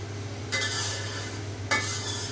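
Chicken sizzles steadily in a hot pan for a homemade sizzling dish, a constant frying hiss broken by two scraping stirs of a spatula, close and alone with a low kitchen hum.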